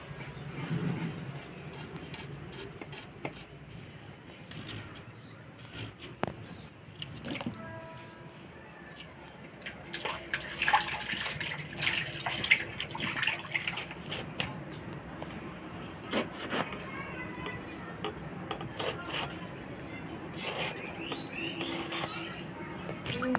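Water runs and splashes while cut fish pieces are rinsed clean in a kitchen, an uneven close patter of drips and trickles with clattering handling sounds.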